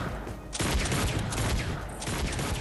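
A minigun in the video game Fortnite opens up after a brief quiet moment, then keeps firing in a dense, continuous roaring burst close up.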